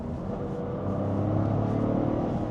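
A Toyota GR Corolla with a small three-cylinder engine accelerating, heard as a steady, full engine drone that rises slightly in pitch while pulling, loud and continuous from inside the car.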